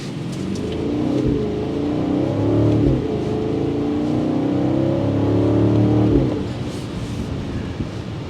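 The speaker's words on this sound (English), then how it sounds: "That exhaust note filters in" A 2024 BMW X5 M60i's 523-horsepower V8 revving and accelerating hard through a couple of gear changes, its exhaust rising in pitch, heard from inside the SUV.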